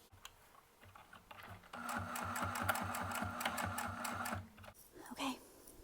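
A sewing machine stitches a fabric face mask in one rapid, even burst of needle strokes lasting a few seconds, close and clear. It stops, then there is soft handling noise and a brief voice.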